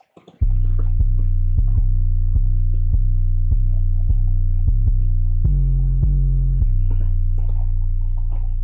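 A heavily distorted electronic beat in the style of "Sicko Mode", made in FL Studio, with a thick, buzzing bass pulsing at a steady rhythm, the tone shifting lower midway; loud and continuous, no voices.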